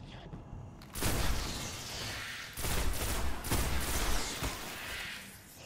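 Rapid gunfire from the video game Destiny, dense bursts of shots rattling in waves with short lulls between, loud and close, with no talking over it.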